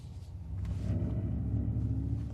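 A Mercedes EQS electric car plays its artificial driving sound at night, a low roaring pulse that swells in after a quiet start and then holds as a steady deep rumble.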